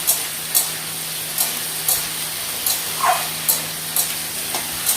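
Potatoes frying in a pan for shukto, a steady close sizzle with regular soft stirring strokes about twice a second, no talk.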